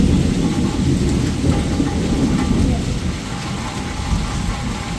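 Heavy rain pours steadily with deep thunder rumbling underneath during a dark evening storm, loud and close, easing slightly toward the end.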